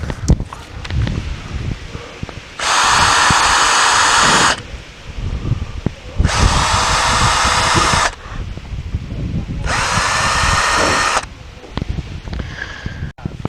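Power drill boring three holes for a rail above the opening rear window of a Fiat Ducato/Peugeot Boxer/Citroën Relay/Ram Promaster camper van: three loud, steady whirring bursts of about two seconds each, separated by quieter handling noises.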